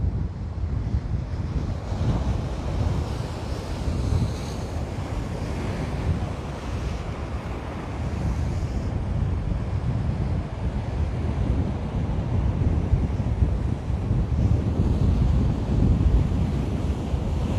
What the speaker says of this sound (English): Look how much water those waves are sucking out.